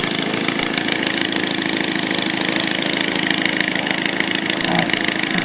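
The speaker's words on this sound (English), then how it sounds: "that engine you're hearing is the 3D pilot up there right now" A small radio-controlled 3D aerobatic stunt plane drones steadily overhead, its engine buzz continuous and fairly loud without a break, with faint voices mixed underneath.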